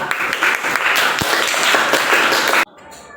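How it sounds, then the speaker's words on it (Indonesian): Dense, loud applause from a classroom full of students for a presenting group, steady clapping throughout that cuts off abruptly near the end and leaves a quiet room. "Kita beri aplaus untuk kelompok 2."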